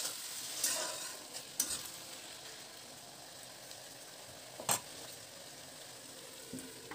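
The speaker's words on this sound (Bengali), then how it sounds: "সবজিটা ভালো করে নাড়াচাড়া করে নিয়ে সবজিটা একটু কিছুক্ষণের জন্য ঢাকা দিয়ে" Vegetables stirred in a pan with a spatula, a few scraping strokes and clinks spaced seconds apart over a low, steady sizzle, close by with no voices.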